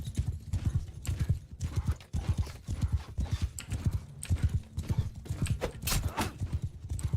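Rapid, rhythmic hoofbeats of horses galloping in the video game Mount and Blade II: Bannerlord, loud and close, with a brief whinny and faint background clatter.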